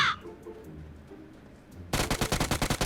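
Gunfire in the battle-royale shooter PUBG Mobile: after a stretch of quiet ambience, a loud close burst of automatic fire erupts, about ten rapid evenly spaced shots to the end.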